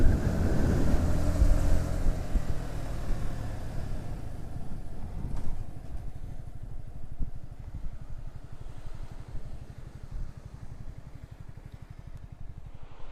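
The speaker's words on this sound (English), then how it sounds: "It's rather windy here, as it often is in canyons." Steady wind in an Alpine canyon high above water, gusting and rumbling against the microphone, loudest at the start and easing into a continuous low roar with no voices.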